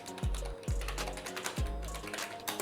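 Several quiet keystrokes on an Aula S99 gaming keyboard with silicone membrane switches land as soft, muted taps at an irregular rhythm, close up and without speech.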